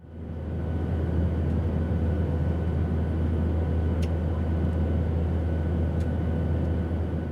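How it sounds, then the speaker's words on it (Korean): Recorded airplane cabin noise played back through a phone speaker: a steady, fairly quiet low roar that swells in at the start and holds even, with a couple of faint ticks. "일단 비행기 소음"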